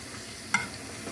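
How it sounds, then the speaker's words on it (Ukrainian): Soft, steady sizzling from frying fat in a pan, with one sharp little click partway through. "на зажарку вижарюю трохи сала, таке з проростю."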